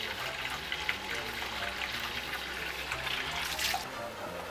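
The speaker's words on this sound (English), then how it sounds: "I'm draining all of the water off of it." Hot water drains off boiled shrimp in a steady trickle and pour that lasts throughout, close and moderately loud.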